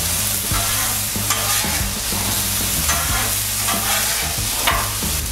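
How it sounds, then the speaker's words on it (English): Seasoned potatoes being tossed on a Blackstone griddle, a steady loud sizzle with repeated scraping and stirring strokes, close up and without any talking. "we're gonna just go ahead and give this a toss around"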